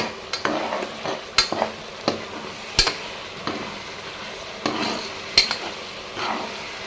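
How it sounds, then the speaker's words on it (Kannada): A metal spoon stirs sambar powder into vegetable pulao in a pan, with sharp intermittent scrapes and clinks against the pan over a faint, continuous sizzle, close up and without talk. "ಅದನ್ನು ಕೂಡ ಇವಾಗ ಹಾಕಿಬಿಟ್ಟು ಮಿಕ್ಸ್ ಮಾಡ್ಕೊಳ್ಳಿ"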